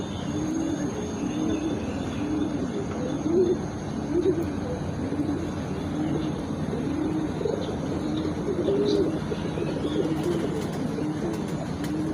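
Pigeon cooing repeats in soft low rolls throughout, steady and moderately near, with a faint background hiss and no talk, from a pigeon in a loft where an egg is stuck in a hen's vent.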